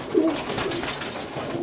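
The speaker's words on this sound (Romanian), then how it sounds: "Uite, ăsta e un porumbel." Pigeon cooing close by from a Romanian champion racing-pigeon breeding cock in a loft, a soft throaty coo that rises early and then rolls on steadily, alone without talk.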